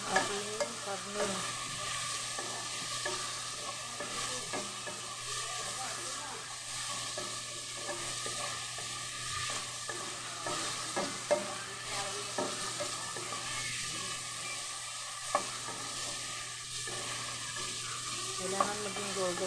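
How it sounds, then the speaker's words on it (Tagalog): Meat frying in a pan for batchoy is stirred until golden brown, a steady close sizzle and hiss with repeated scraping and clinking of the utensil against the pan throughout. "halo-haloin natin hanggang sa mag-golden brown itong ating karne"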